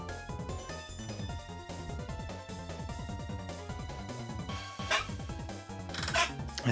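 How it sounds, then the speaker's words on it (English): A household dog barks several times in short bursts, partly masked by continuous, busy video game music that dominates the mix. "are you gonna bark directly under where I'm recording?"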